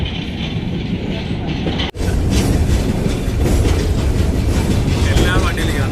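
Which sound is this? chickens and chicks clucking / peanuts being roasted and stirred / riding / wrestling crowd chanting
riding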